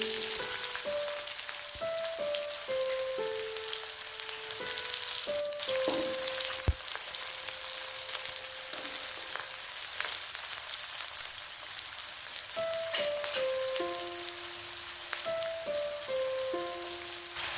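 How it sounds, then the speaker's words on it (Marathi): Cumin seeds and chopped onion fry in hot oil, giving a steady, even sizzle throughout under a soft instrumental melody. "तेल तापलेलं आहे. त्यामध्ये मी अर्धा चमचा जिरे घालणार आहे. चिरलेला एक कांदा घालणार आहे."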